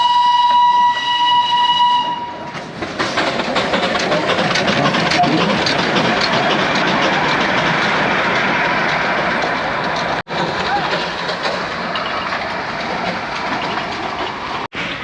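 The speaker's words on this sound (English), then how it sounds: "That's the steam engine, and that's the war memorial." A steam engine toy train in Darjeeling gives a brief whistle, then rumbles past close by with a continuous, loud clatter of carriages that lasts throughout.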